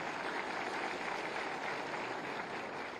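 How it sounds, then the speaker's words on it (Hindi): Faint, distant, steady clapping from an audience at an official appointment letter ceremony, a continuous wash of applause with no distinct voices. "तालियां जोर से होनी चाहिए।"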